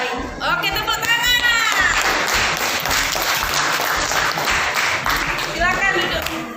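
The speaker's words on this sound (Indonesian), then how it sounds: "Oke, tepuk tangan." Classroom of children applauding together, a dense steady patter of clapping lasting several seconds, with children's voices calling out over it.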